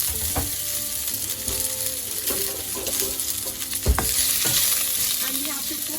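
Sliced onions hitting hot oil with a bay leaf and green cardamom, crackling and sizzling in a steady hiss, with a few louder clanks and scrapes of a spoon stirring the pan close by.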